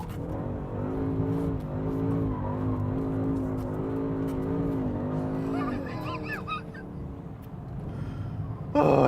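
Powerful performance sedan engine — Mercedes-Benz E63 AMG S, BMW M6 Gran Coupe or Jaguar XFR-S — driven hard, a loud sustained roar rising and falling in pitch, with a brief tyre squeal toward the end and no talking.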